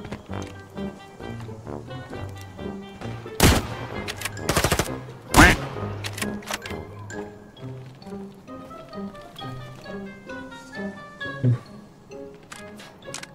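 Gunfire in the video game Arena Breakout: several sharp, loud shots burst out in a cluster midway, including rapid bursts, over a musical background with tonal notes before and after.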